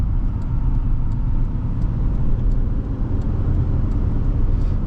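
A 2005 Buick Rendezvous with the base 185-horsepower engine pulling under acceleration, a loud continuous low rumble of engine and road noise from inside the cabin.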